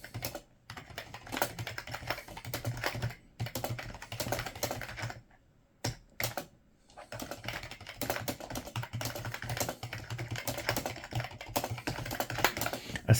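Steady typing on a computer keyboard whose keys need pressing hard to register, rapid clicking keystrokes with a couple of brief pauses, close and fairly loud, no voices.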